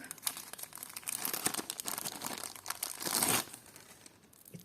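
Loud, close crinkling of a plastic packet, a dense run of crackles and rustles that swells, then fades to quieter handling.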